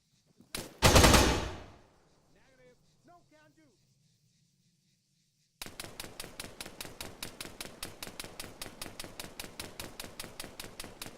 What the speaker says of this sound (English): Dimitriero, engage that machine gunner! Contact machine gunner!